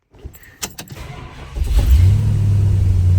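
A 1970 Plymouth Sport Fury GT with a six-barrel carburetor setup cranks over with a few sharp clicks, then the engine catches and settles into a loud, rumbling idle close by.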